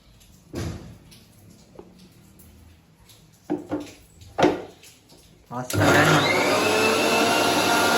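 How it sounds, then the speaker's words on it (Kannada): A kitchen mixer grinder starts up grinding rice, a loud steady whirring roar filling the last couple of seconds after a few handling knocks and bursts of talk. "ಈ ಥರ ಮಿಕ್ಸಿ ಮಾಡ್ಕೊಂಡೆ ಅಕ್ಕಿ"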